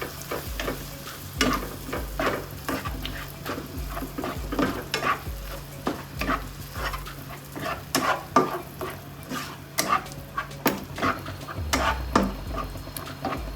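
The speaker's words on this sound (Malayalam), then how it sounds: "ഇനി ഇതിനകത്ത് ഒരു 3-4 ടേബിൾ സ്പൂൺ തൈര് അതൊഴിച്ച് കൊടുത്ത് ഇതെല്ലാം നല്ലതുപോലെ മിക്സ് ചെയ്യാം" A spoon stirs curd into paneer masala in a pan, making repeated scraping strokes over a continuous sizzle, close and fairly loud, with no talking.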